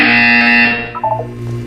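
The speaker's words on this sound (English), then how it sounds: "You will hear a buzzer." Loud electronic buzzer in Portal 2 sounds as a steady tone for most of a second, then cuts off, followed by brief quieter electronic blips.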